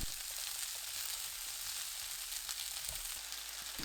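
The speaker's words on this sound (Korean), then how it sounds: "소시지 넣고 중불로 1분 30초 볶아주세요" Sausage and onion stir-fry in olive oil in a pan over medium heat, giving a faint, even hiss of frying that holds steady throughout with a couple of soft knocks near the end.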